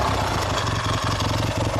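A 1970 Triumph Daytona T100R motorcycle engine idles with a light blip of throttle, a close, steady low-pitched rumble with even pulsing and no speech over it.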